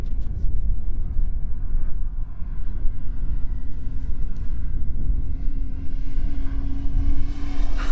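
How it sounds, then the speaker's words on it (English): A Jeep Wrangler JLU Rubicon speeds down a dirt road, its engine a steady, rumbling drone that grows louder and rises in pitch toward the end, with wind buffeting the microphone and no voices. "I'm gonna have Kevin do a high-speed pass to see just how fast he can come down this dirt road"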